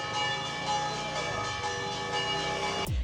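Church bells ring in Italy, a dense sustained wash of overlapping metallic tones with a steady, resonant hum throughout, loud and close, ending with a brief rustling disturbance.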